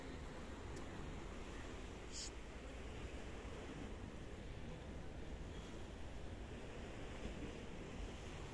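Black Sea waves wash against coastal rocks in Turkey, a steady, continuous surf roar with wind noise on the microphone, heard from up on the rocks.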